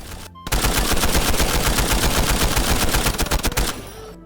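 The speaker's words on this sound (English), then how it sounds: "Redux by Nady 2283 is one of the best and most satisfying LMG mods I have ever used in Fallout New Vegas" A light machine gun from the Redux weapon mod for Fallout New Vegas fires one long sustained burst of rapid, loud, close shots, then stops, with no voice.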